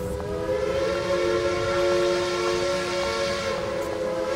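A train sits at a boarding platform, its steady tonal hum and horn-like drone sustained at fairly close range over a low rumbling bed, with no voices.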